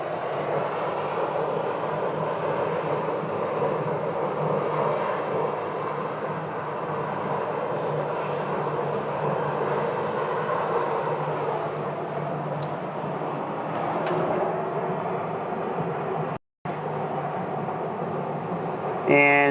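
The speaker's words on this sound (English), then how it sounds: "So there they go, off there in the distance. KC-135, U.S. Air Force." A U.S. Air Force KC-135 jet flies far off near a busy airport, a steady low engine roar holding throughout, broad and distant, with a brief dropout near the end.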